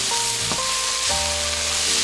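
Onion, leek and garlic sizzle in olive oil over medium heat, a steady close frying hiss under soft background music, with no voices.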